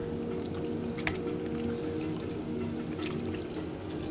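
Water running from an automatic sink tap in a luxury restroom, a steady soft hiss and patter at close range, continuous with a faint click partway through.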